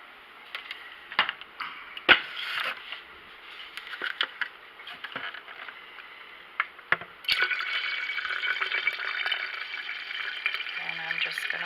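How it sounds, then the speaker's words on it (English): Water being poured into a container of strong sweet tea to dilute it for a continuous-brew kombucha batch, a steady splashing fill after scattered taps and small drips, growing fuller and louder in the second half. "So now I'm going to add my water."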